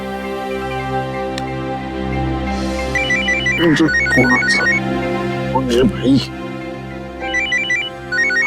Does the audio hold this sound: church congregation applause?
no